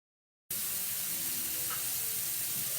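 Chicken sautéing in a pan for chicken Vesuvius, a steady close sizzle that starts abruptly after a moment of silence and holds loud and even throughout, with no talk.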